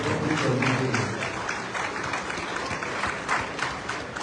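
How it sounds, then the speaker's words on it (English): Audience applause at a live-streamed Nigerian public event honouring a senator, steady loud crowd clapping throughout with a busy, reverberant room noise. "I'm sure he deserves a better round of applause, please"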